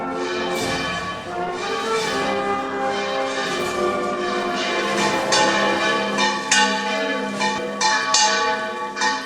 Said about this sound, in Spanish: acompañadas por el volteo solemne de campanas.